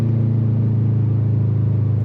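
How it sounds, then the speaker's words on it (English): Subaru WRX STI Type RA with an EJ engine and AWE track spec catback exhaust, idling in a deep, steady burble with an even pulsing throb, close and loud with no talk. "I'm glad I pulled the trigger on the AWE track spec catback exhaust"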